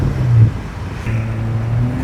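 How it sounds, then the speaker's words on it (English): A roadster fitted with a new stainless steel exhaust downshifts, giving a loud close engine note that swells briefly, dips, then holds a steady droning rev. "Let's get a good downshift."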